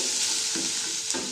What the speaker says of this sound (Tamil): இருங்க, கொஞ்சம் இஞ்சி பூண்டு பேஸ்ட் எடுத்து போடுறேன்.